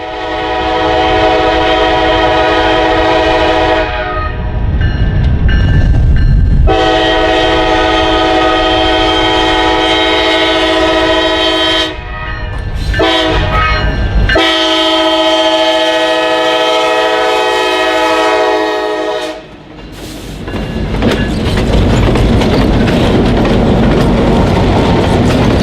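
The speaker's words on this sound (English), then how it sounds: "the 2185 acted as the fourth diesel locomotive on the massive 92-car-long train" A massive 92-car grain train hauled by four diesel locomotives on the Indiana Northeastern, led by a KCS unit, thunders past close by. Long, loud horn blasts sound repeatedly over the rumble and clatter of the passing cars.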